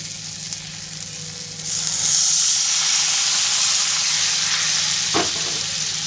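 Egg kofta masala hisses and sizzles loudly as water is poured into the hot pan, becoming a sustained, close steaming roar that settles with a brief clink near the end.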